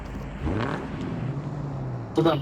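A vehicle engine in the PUBG video game drones steadily and rises in pitch as the car drives up, with a brief louder burst near the end and voices talking over it.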